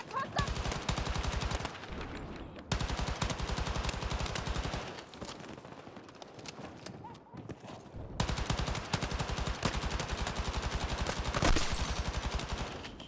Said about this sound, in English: I love that an SMG can do this.